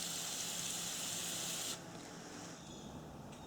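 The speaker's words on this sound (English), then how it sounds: "the plan is to spray each fastener for 2 seconds" A can of penetrating oil hisses in a steady two-second spray onto a rusted fastener, close and fairly loud, then cuts off into quiet background hiss.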